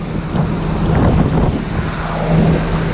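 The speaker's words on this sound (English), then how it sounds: "it's really windy out here." Strong wind blasts across open farm fields during the soybean harvest, a loud, steady buffeting roar against the microphone with low rumbling gusts.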